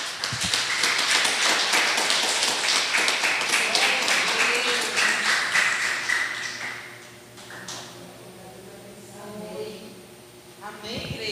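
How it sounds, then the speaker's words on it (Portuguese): A church congregation applauds loudly and steadily, dense clapping that fills the room for about six seconds before fading into scattered claps and quieter murmuring. "Vamos aplaudir nosso Deus."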